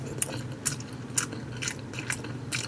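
Boneless smoked pork trotters, air-fried, being bitten and chewed up close: sharp crunchy bites recur about every half second in an uneven rhythm, with moist chewing between them.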